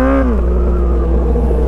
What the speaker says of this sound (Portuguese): Mano, essa moto é muito bruta